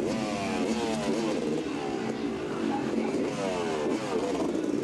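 A freestyle motocross motorcycle's engine revs and drones continuously during a jump routine, with rising and falling pitch sweeps heard from a distance over a broad crowd-like wash and faint commentary.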